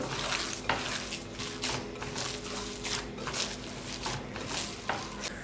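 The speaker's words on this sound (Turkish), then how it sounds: "yoğuruyorum yoğurdukça daha lezzetli olacaktır köfteniz" Hands knead a meatball mixture of ground meat with spices, salt and onion, producing close, continuous squelching and slapping with soft rhythmic pats, no talking.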